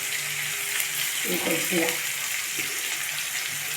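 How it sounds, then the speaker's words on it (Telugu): Cucumber pieces and tomatoes frying in a pan for a cucumber, drumstick and tomato curry, giving a steady close sizzle with a louder burst of crackling midway while a person talks over it. "కొంచెం ఒక్కసారి ఫ్రై అయిన తర్వాత అప్పుడు దోసకాయ ముక్కలు, టమాటాలు వేస్తానండి."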